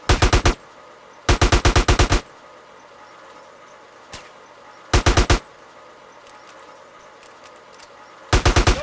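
Several rapid bursts of automatic gunfire from a player's weapon in Grand Theft Auto, loud and close, in separate volleys with quiet gaps and one lone shot between.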